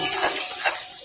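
Onions fry in a pan with garlic, cooking until lightly browned. A steady close sizzle runs throughout, with soft stirring scrapes and no talk.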